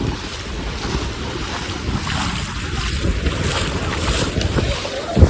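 Sea waves roll onto Nagaon beach at Alibag in a steady roar of surf, while strong wind buffets the microphone throughout and no one speaks.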